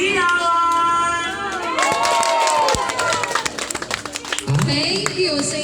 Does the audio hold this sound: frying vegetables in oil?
no